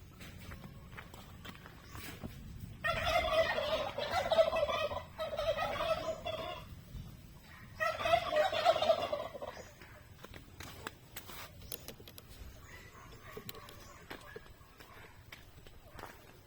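Native chickens cluck and call nearby in two loud, bubbly bursts, with footsteps and rustling in between.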